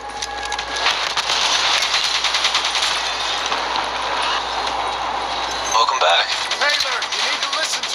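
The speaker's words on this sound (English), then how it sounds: "Get that minigun from the mobile armory." Minigun fire in Call of Duty Black Ops 3: a loud, unbroken rattle of rapid shots runs through the whole stretch, with a brief shift in tone near the end.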